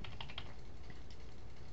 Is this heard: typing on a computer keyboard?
yes